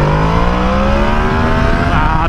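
A loud motorcycle engine revs hard through a short wheelie, its pitch climbing steadily over a couple of seconds, close and continuous with no talk.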